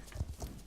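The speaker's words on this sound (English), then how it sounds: "I have to get my horse." Hooves clip-clop from a horse in the game Star Stable Online, a few quick, soft thuds in an uneven gait over a short stretch, faint and close.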